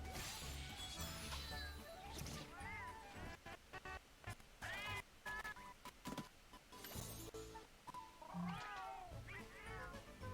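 Several house cats meow and caterwaul in a string of rising, wailing calls, close and fairly loud, scattered across the stretch with a few knocks and thumps between them.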